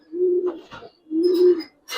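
A giribaz pigeon coos twice in low, rounded bursts about a second apart, close and clear, with brief fluttering and scuffling between the calls as it hops about.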